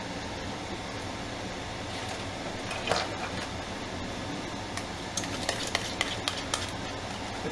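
Canned chili being spread around a casserole dish with a utensil, a wet squelching scrape that runs throughout, with a few sharp clicks and taps of the utensil against the dish near the end.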